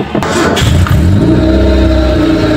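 Car engine starting up before a drive: a few short cranking bursts and clunks, then the engine catches and settles into a loud, steady idle hum close by, with no talk over it.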